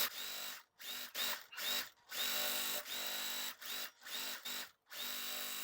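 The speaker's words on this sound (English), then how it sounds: "So I'm going to sew now." A sewing machine stitches a pinned quilt block seam in short bursts, a loud close whirring motor starting and stopping repeatedly with brief pauses between runs.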